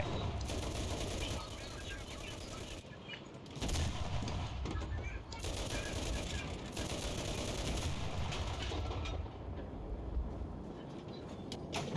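Gunfire in the World War II shooter game Enlisted: bursts of rapid automatic fire and scattered shots from infantry weapons and a tank-supported battle, loud and dense, with breaks between bursts and a voice talking over parts of it.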